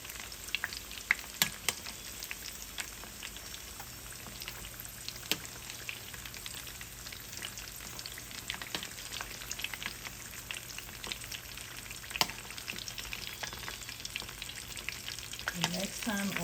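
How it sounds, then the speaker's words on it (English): Spring rolls sizzle steadily in hot oil during a second deep fry, a dense, even crackle with scattered sharper pops throughout, close and continuous with no talking. "put it back in to fry for the second time so it can look golden"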